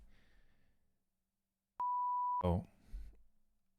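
One steady electronic beep holds a pure tone for about half a second and is cut off abruptly, set in near silence and followed by brief muffled voice sounds.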